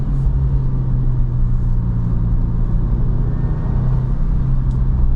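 A 2024 Subaru WRX TR drives along with a steady, loud engine drone and road rumble that holds at a constant level throughout, without any speech.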